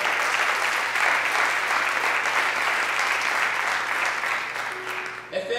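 Congregation clapping in unison during a church service, steady loud applause sustained throughout and tapering off near the end.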